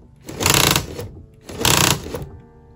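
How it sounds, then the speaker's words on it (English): The motorized steering of a Lego Bronco 4600 model whirs in two short, loud bursts of buzzing gear noise with a brief pause between them. "another feature that we've got on here that is motorized is the steering"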